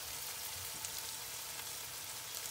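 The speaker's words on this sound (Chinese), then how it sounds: "把肉给它爆香" Ground pork stir-fries in a hot wok with an oil-and-soy-bean-sauce noodle dish in progress, giving a faint, steady sizzle with soft crackles throughout the brief stretch.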